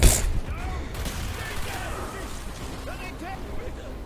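PPSh submachine gun fire in Call of Duty Black Ops, rapid bursts of shots mixed with game effects while a player talks over them.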